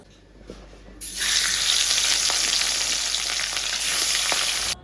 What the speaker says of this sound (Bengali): কড়াইটাকে আজকে ভালো মতো একদম গরম করে নিয়েছি তেলটাকেও ভালো মতো গরম করে নিয়েছি আর যেন আর কি মাছগুলো লেগে না যায়